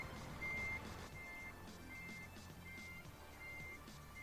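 A truck in Euro Truck Simulator 2 sounds repeated reversing beeps at a steady rhythm, each short tone evenly spaced, faintly over a low engine rumble.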